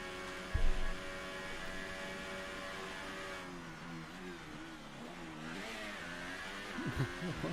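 A Formula 1 race car engine in F1 2018 on the Australia circuit: a steady high engine drone with stepped pitch changes as the car downshifts, and a brief louder burst near the start, with no talking.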